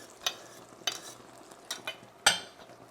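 Eggplant cooking in tomato sauce in a pan for pasta alla Norma, with a low simmering sizzle and four short, distinct stirring scrapes spaced through the stretch, close and moderately loud, no talking.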